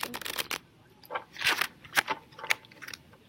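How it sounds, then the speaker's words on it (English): Tarot cards being shuffled by hand in a quiet room, a series of soft crisp riffling and slapping bursts with short pauses between them, close and fairly faint. "I'm going to shuffle again"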